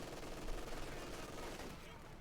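Dense, continuous machine gun fire in the Company of Heroes 2 strategy game, Wehrmacht against Soviets with DP light machine guns in play: a rapid rattling barrage that holds steady and fairly loud for about two seconds.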